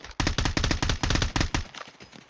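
Rapid automatic gunfire during a video game shootout, loud bursts of shots in quick rhythm for about a second and a half, then trailing off into quieter echoing reports.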